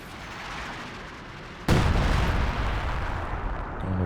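A single heavy ML-20 artillery gun fires in Company of Heroes 2, a sudden loud boom that rolls into a long rumbling tail after a quieter stretch of battlefield ambience.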